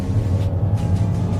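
Steady low engine drone from a Mazda CX-5 with a 2.5-litre 16-valve petrol engine and all-wheel drive as it accelerates, heard from inside the cabin, even and moderately loud with no talking.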